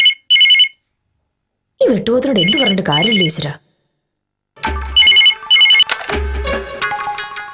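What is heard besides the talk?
telephone ringing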